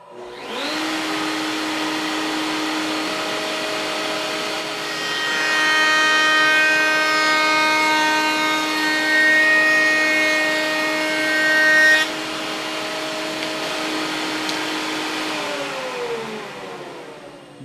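A router table makes a second pass on a wooden picture frame, with a wood upright guided along the fence. The motor drones steadily and swells with a harsher cutting roar midway, then eases back as the cut finishes.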